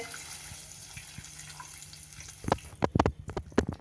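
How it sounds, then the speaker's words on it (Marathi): A cup of water pours steadily from a mixer jar into a pan of rasam for a couple of seconds, then stops, followed by a few sharp knocks and clatters. "एक कप पाणी मी घातलेलं आहे मिक्सरच्या भांड्यात तेही यामध्ये घालतेय"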